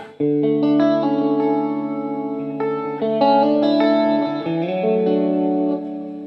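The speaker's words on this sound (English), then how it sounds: "It's a long reverb." Electric guitar notes and chords through a Zoom 505 long reverb effect, washing into a sustained reverb tail, sounds blending and ringing on continuously.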